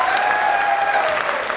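A short burst of audience applause at a poetry recitation, dense and steady clapping from a crowd with no voices over it.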